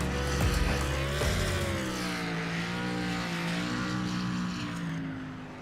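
Pace car engine in the iRacing game at Pocono roars loudly nearby, its pitch shifting and then holding a steady tone as it slowly fades over several seconds, with no talk.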